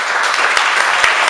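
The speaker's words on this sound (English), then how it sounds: "could you give a round of applause for the staff?" A crowd applauds the staff at an evening event, a dense, steady wash of clapping filling the short stretch without a break.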